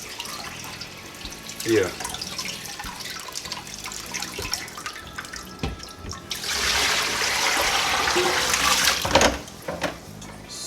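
Tap water runs from a faucet into a sink while fish are washed for fish soup, a steady rushing stream that swells loud for a few seconds among clatter, with a voice speaking briefly.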